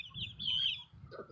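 A small dwarf hen with short legs clucks close by in a backyard flock, giving a brief high, rising squawk followed by softer low murmurs.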